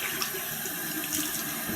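Cold water runs steadily from a tap into a sink in a home bathroom during a shave, a continuous broadband splashing and hiss close by, with no talking.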